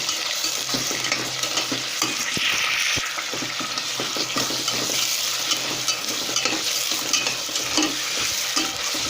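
Chopped onions and leeks fry in hot oil in a pan, a steady close sizzle with stirring and scraping throughout, cooked as the base for a Somali rice and sauce dish.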